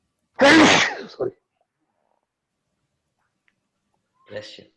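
A single loud sneeze during an online language class, sharp and close, followed by a short catch of breath and a brief spoken reply after a pause.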